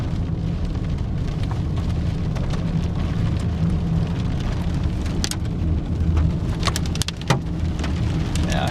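A Colorado supercell core pours heavy hail and rain onto a vehicle, a dense, loud, continuous roar broken by sharper individual impacts of larger stones.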